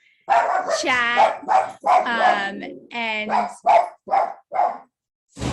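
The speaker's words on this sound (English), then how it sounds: "sorry, that's my dog, excited that someone's coming in" An excited dog barks repeatedly in quick bursts indoors, close and loud, with yips between barks while a person speaks briefly over the noise.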